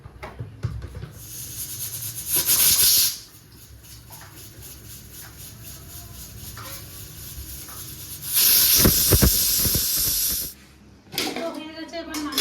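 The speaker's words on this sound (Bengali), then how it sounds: "চানাটা হালকা একবার সিদ্ধ করে নেবো একসঙ্গে।" Steam hisses strongly in two long bursts while chickpeas boil on a stove for chana masala, with quieter kitchen bubbling and speech in between.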